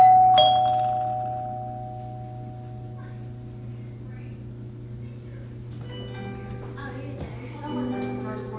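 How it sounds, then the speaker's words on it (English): A single electronic chime from a battery-powered 2021 Google Nest Doorbell rings at the start and fades, followed by steady background hum and faint clicks. "when the doorbell is pressed, we hear this"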